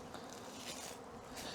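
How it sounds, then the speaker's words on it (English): A honeybee swarm near the hives gives a faint, steady buzzing hum that stays even throughout the short stretch, with no voices. "So it's a swarm. I don't know from which hive,"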